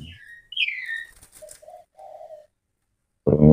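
A wild bird shut inside a house-shaped cage trap gives a few short, clear calls and coos close by, with brief silences in between, then a burst of louder sound at the end.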